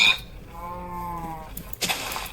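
Cow in the Cobblemon mod for Minecraft gives one drawn-out, wavering bleat-like moo, close and clear, followed by a brief sharp game sound.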